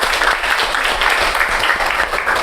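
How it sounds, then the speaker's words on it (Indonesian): Schoolchildren clap together in a classroom, a close, continuous patter of many hands lasting a couple of seconds. "Ya, bagus sekali. Tepuk tangan."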